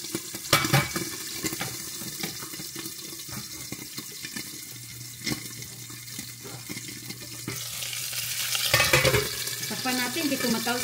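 Chicken liver adobo frying and splattering in a pan, a continuous close sizzle with a few sharp pops and a louder burst near the end.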